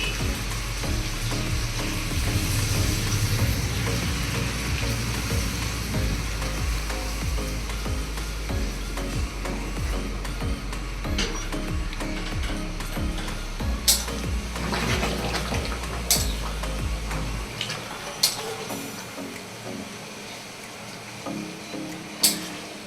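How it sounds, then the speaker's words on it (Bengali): Hot water is poured into a pan of sizzling potatoes and meat, a loud rushing hiss and bubbling that fills most of the clip, then drops away to quieter simmering with a few clinks of a utensil. "এবার আমি যে গরম জলটা করে রেখেছিলাম, গরম জলটা আমি ঢেলে দেব।"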